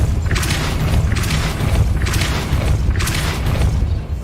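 Repeated spell impacts from the Depulso force-push charm in the video game Hogwarts Legacy, four evenly spaced whooshing bursts over a constant low rumble, loud and close with no talking.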